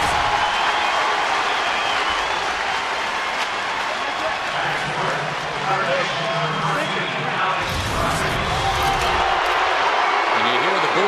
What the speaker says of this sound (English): you hear the booing for Alex Rodriguez as he steps in